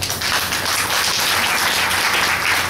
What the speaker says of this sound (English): So I think you should give him a round of applause for that.